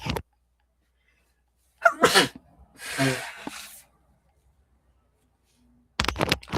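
A person with seasonal allergies gives a single sharp sneeze, preceded by a short intake of breath. Quiet pauses surround it, and another brief burst of sound comes near the end.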